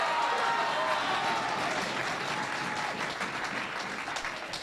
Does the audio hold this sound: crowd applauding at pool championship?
yes